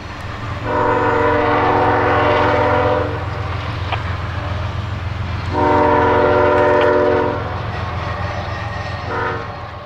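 Two Norfolk Southern freight trains pass at a rail junction in Ohio under a constant low rumble, with two long chord blasts of a horn sounding loud and near, separated by a pause, then a brief third toot.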